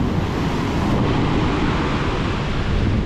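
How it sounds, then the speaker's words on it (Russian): Stormy surf rolls onto a rocky shore in Turkey in December, a loud, continuous broadband roar of breaking waves with wind buffeting close to the microphone and no voices. "Да, волны накатывают нормальные."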